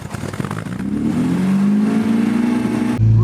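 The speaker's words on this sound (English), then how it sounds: "Revving high, there's too much air going in." An old MGB GT's engine runs high on the choke after a cold start, a loud, steady revving drone whose pitch climbs gradually and then drops to a lower steady idle, with no talking.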